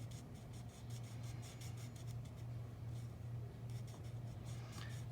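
An alcohol marker with a bullet nib drags across card in steady scratchy strokes, faint and close, over a constant low hum with no talking.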